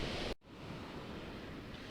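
Ocean surf breaks on the shore during a choppy sea, a steady loud rush of washing water with wind noise, briefly dipping before the roar resumes.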